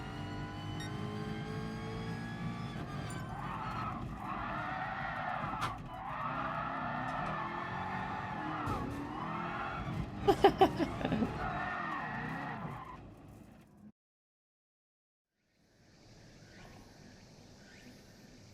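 Race cars in GT Sport hold a long wavering engine drone with tyre squeal and skidding layered over it, plus a burst of sharp clicks near the end. It then drops to near silence before a faint high hum returns.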